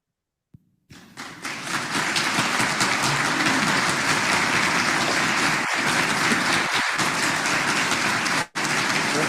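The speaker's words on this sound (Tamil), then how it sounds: "அதை பாராட்டு மூலமாக திருவினாடிகள் எல்லோரும் கைதட்டுவோம்" An audience at a talk bursts into sustained clapping that starts abruptly and holds as a dense, even wash of applause, with a couple of brief dips near the end.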